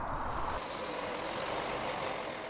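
A lorry drives along a road near the Irish border, its engine a steady broadband rumble with road noise, fairly close and continuous, easing slightly toward the end.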